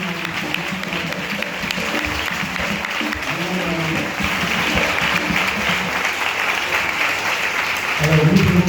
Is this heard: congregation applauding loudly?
yes